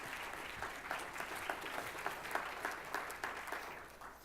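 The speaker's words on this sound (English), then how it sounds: "give him an applause." A small audience at a technical talk claps briefly, a steady patter of hands heard at a modest distance.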